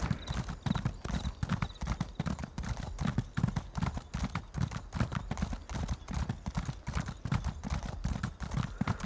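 Horse hooves clip-clop steadily at a brisk, even rhythm in the Elder Scrolls Online game, close and continuous throughout, with faint game ambience underneath.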